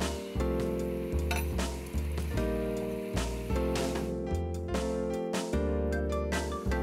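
Morel mushrooms simmer in a pan of reduced wine and rabbit gravy with a steady close sizzle, overlaid by repeated rhythmic clinks and scraping from stirring, with no talking.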